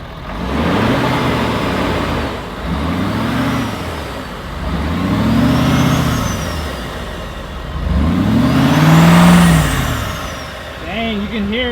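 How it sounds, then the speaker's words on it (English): A 2017–2019 Ford F250 with an S&B cold air intake revs repeatedly in swelling bursts, each rise carrying an audible turbo whistle, with the truck's engine close and loud throughout. "you can definitely hear like some whistle coming through there now from the turbo"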